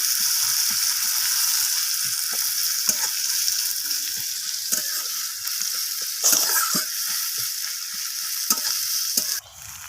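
Bhola fish frying in a pan with thin-sliced onion: a loud, constant close-up sizzle with a bright hiss, broken by occasional stirring clatters and scrapes, no voices.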